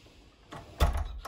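A dormitory room door in a shared four-person girls' student dorm opens with a short creak and then a louder thud and rattle as it swings, heard up close with no talking.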